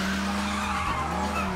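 A stolen car speeds off with tires skidding in a sustained screech over a steady engine roar, loud and close for under two seconds.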